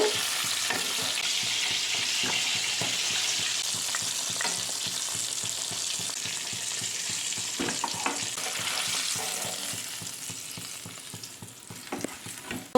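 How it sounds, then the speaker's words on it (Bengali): KFC-style chicken pieces frying in oil, a steady dense sizzle with fine crackling throughout, heard close up and alone. "এই চিকেন পিসগুলো ভাজা হয়ে গেছে আমি তুলে নেব"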